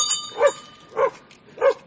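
A chained dog barks three times at a gate at night, evenly spaced single barks, fairly close and clear against a quiet background, with no voices.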